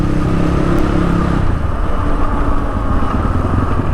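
A motorcycle engine droning steadily during a ride, loud and close throughout, with the pitch dropping partway through as the rider eases off the throttle and keeps rolling.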